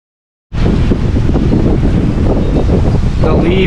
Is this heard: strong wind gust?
yes